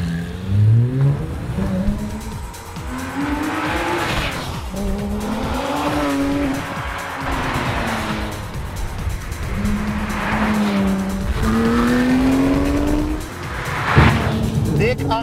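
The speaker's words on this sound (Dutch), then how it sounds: "Dik 8000 toeren haalt deze GT3 RS. En ja, dan klinkt die heel goed hoor." A water-cooled Porsche 911 GT3 RS (997) accelerates hard on a dry day, its engine revving toward about 8000 rpm in rising, repeated pulls through the gears, loud and close throughout.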